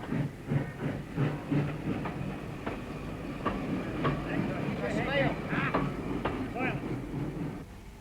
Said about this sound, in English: At Arica, the morning local leaves from under the shadow of Ben Lomond.